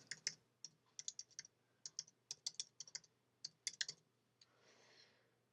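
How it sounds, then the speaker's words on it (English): Typing on a computer keyboard into a Microsoft Word document, a close run of crisp key clicks in uneven bursts, ending with a short soft rustle, no voices. "And then we're just going to type in your website."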